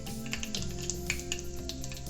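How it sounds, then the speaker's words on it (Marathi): Mustard seeds crackle in hot oil, a dense run of tiny sharp pops and snaps over a steady close hiss, continuous and fairly loud with no voices. "मोहरी तडतडलेली आहे।"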